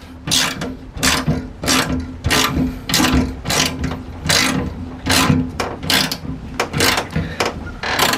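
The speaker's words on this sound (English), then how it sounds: "I'm going to tighten up the one over here, and you can see how it draws itself in, and it makes its own like groove" A bolt is tightened with a ratchet to mount a Kirkey seat without an extra bracket. Steady, loud, close clicking comes in quick repeated bursts throughout, with no talk.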